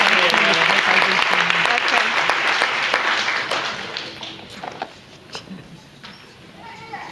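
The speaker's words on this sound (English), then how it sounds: "Give Jimmy a big round of applause." A game-show audience at a number-crunchers grand champion round applauds a contestant, loud dense clapping for a few seconds that thins and fades out, with a voice speaking over the tail.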